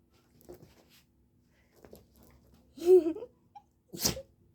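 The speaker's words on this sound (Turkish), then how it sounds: "çok yaşa çok yaşa Eko" A dog sneezes sharply a couple of times amid quiet outdoor sounds, with faint soft noises before the bursts.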